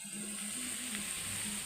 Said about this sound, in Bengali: তো আলুটা ভেজে নিচ্ছি